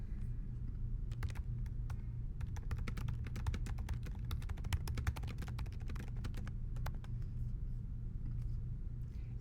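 Rapid typing on a computer keyboard: dense bursts of crisp key clicks over a low steady hum, close and moderately quiet, with no voices.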